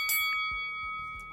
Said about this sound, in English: you're going to hear a gong going off now